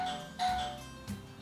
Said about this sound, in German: Oh, es klingelt